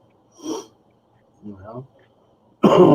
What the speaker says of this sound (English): Cough. Excuse me, need water.